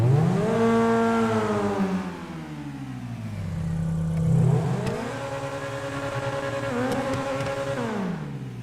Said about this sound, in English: Here's a startup.